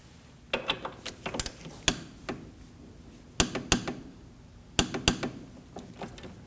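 A torque wrench tightening a ball joint nut on a 2003-2006 Subaru Baja front knuckle, sharp ratcheting clicks in quick bursts of several pulls with short pauses between, close and clear with no talking.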